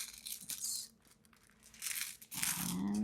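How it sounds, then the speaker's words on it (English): Runes being shuffled for a monthly reading, a few seconds of crinkling, rattling handling noise in bursts with a quieter gap in the middle, close by and alone. "Let's shuffle your runes."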